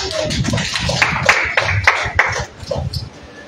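A church congregation claps in praise to God, a burst of scattered, fairly loud hand claps with sharp individual strikes that thins out toward the end.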